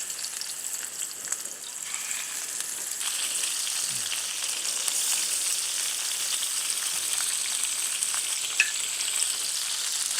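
Fish frying in well-heated cooking oil in a pan gives a steady, dense sizzle that holds at an even level throughout, close and continuous with a few faint pops and no voices.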